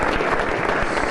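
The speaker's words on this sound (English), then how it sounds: "Round of applause for Matt." An audience at an energy startup pitch event applauds, a thick continuous wash of many hands clapping at even loudness with no talk over it.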